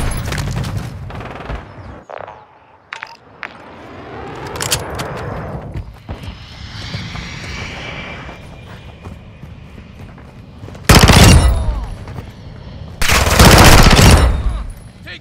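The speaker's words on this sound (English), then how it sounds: "Taking effective fire!" Video game gunfire with bursts of rapid shots scattered throughout, growing loud and dense in two heavy volleys near the end, mixed with clattering mechanical noise.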